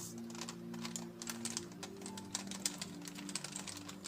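Plastic pieces of a WitEden Octahedral Mixup Plus II twisty puzzle in blue clicking and clacking as it turns, a rapid, uneven run of close, moderately quiet taps with no talking.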